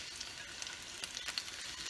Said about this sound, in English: our sun-dried tomatoes are starting to sizzle a little bit here